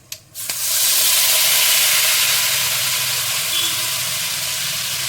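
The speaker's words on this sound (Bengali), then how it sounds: "এখন আমি এই তেল আর এই ঘিয়ের মধ্যে দিয়ে দেবো কাজু আর বাটার পনিরের দুধ দিয়ে যেটা করেছি সেই পেস্টটা" A paste of cashew, butter paneer and milk hits hot oil and ghee with a sudden loud sizzle that settles into a steady, close, hissing fry lasting several seconds with no talk.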